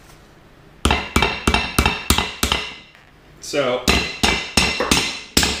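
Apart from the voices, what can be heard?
hammering sway bar end links onto bushings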